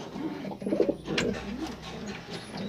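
A pigeon coos close by, a couple of low throaty rolling calls over faint background rustle, with no talk.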